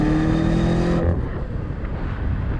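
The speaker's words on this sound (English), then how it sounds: "A little bit of turbo noise, okay. I can hear the exhaust, it's not that quiet." A BMW M5 CS twin-turbo V8 rumbles with a deep, steady exhaust drone and a faint turbo whine on top, which drops away about a second in, leaving a rougher, broadband engine roar.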